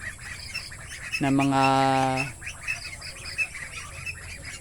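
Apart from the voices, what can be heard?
ducklings calling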